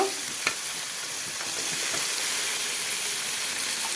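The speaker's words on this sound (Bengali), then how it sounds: "এক চামচ হলুদ এখন একটু নেড়ে দিব এখন এর মধ্যে বাঁধাকপি ছেড়ে দিব" Cabbage frying in oil in a pan with turmeric, salt and chopped tomato, giving a steady, close, dense sizzle with a few soft stirring knocks throughout.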